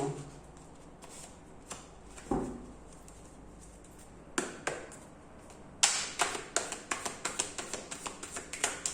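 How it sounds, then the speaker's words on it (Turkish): Tarot cards are shuffled in scattered soft riffles and taps early on, then in a quick run of crisp, evenly spaced card slaps near the end, close and quiet with no talk. "Bir kart daha alıp hemen okuyacağım"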